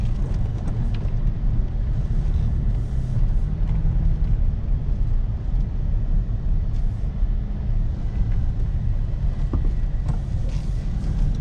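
2015 Toyota Tacoma SR5 with a V6 engine, heard from inside while driving: a steady low engine and road rumble with some wind noise, continuous throughout, with no talking.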